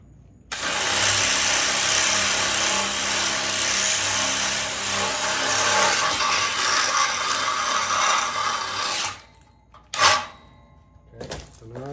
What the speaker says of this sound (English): I'm just gonna drill the hole out.